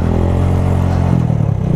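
A motorcycle running on its reserve fuel after nearly running out of gasoline holds a steady, close engine drone with a low rumbling note and a light mechanical clatter throughout.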